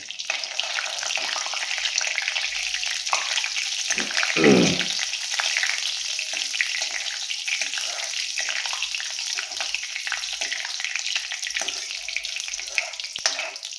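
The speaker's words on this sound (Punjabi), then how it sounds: "ਸਾਡਾ ਤੇਲ ਲਗਭਗ ਗਰਮ ਹੋ ਚੁੱਕਾ ਹੈ ਤੇ ਇਹਦੇ ਵਿੱਚ ਆਪਾਂ ਹੁਣ ਪਾਵਾਂਗੇ ਜੀਰਾ" Cumin seeds crackling and sizzling in hot oil in a pan while being stirred for a Punjabi black chickpea curry, a steady close frying hiss with a brief louder scrape of stirring partway through.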